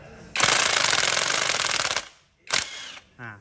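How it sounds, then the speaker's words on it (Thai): An electric impact wrench with a long 1/2-inch socket drives an engine cover nut, a loud close rattling hammer burst lasting over a second, then a short second burst and a brief whirring tail. "มาสวมกับตัวบล็อกไฟฟ้า ตัวนี้ก็จะขันตัวน็อตฝาครอบเครื่องได้ง่ายขึ้นนะครับ"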